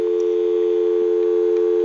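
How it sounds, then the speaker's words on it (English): A steady, continuous dial tone from a Western Electric 202 rotary telephone with bell box, loud and unbroken, with faint clicks in the background. "We'll go ahead and give you some dial tone"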